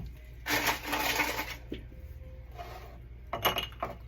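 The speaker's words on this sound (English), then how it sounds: "So I put some ice in my glass." Ice cubes dropped into a glass, a short clattering rattle followed by a few lighter clinks and a final burst of tumbling cubes, close and fairly quiet.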